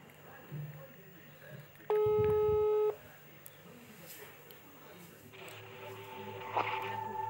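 A telephone call signal gives one loud sustained beep, roughly a second long, over low room noise and faint background sounds, followed by a quieter tonal electronic blip near the end.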